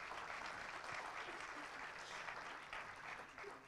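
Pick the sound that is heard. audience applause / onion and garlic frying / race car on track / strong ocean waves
audience applause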